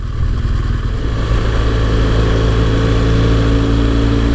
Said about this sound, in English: Cracking place to ride a motorcycle.